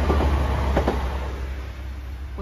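TransPennine Express Class 185 diesel unit passing Denaby level crossing, a steady loud rumble with faint rail clicks throughout, no voices.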